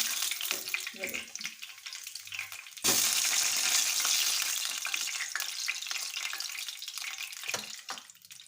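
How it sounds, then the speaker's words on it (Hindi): Chicken frying in hot oil over a medium flame, a broad crackling sizzle that jumps louder partway through and holds steady, with scattered clinks and stirring noises up close. "आपने भी बिल्कुल इसको मीडियम फ्लेम पे भी फ्राई करना है"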